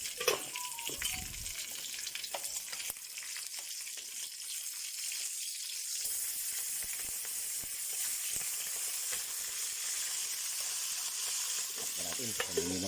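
Steady, dense sizzling of fish frying in hot oil, continuous and fairly loud throughout, with occasional faint clinks and stirring noises.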